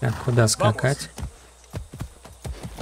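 Horse hooves clop in the video game Far Cry 6, a string of sharp, fairly evenly spaced thuds that follow a short stretch of someone talking.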